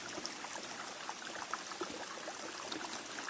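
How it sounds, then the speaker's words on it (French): Small streams trickle and burble at Chaos du Gouët in the Côtes d'Armor woods, a soft, continuous watery hiss with faint bright splashes, fairly quiet and even throughout. "je suis arrivée près des ruisseaux"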